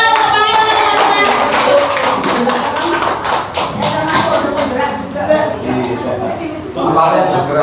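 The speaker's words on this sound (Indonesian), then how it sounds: "Tepuk tangan untuk Pak Riono teman-teman." Audience hands clapping at a school teacher-training session on positive classroom culture, a steady stream of taps and claps running the whole time under continuous talking.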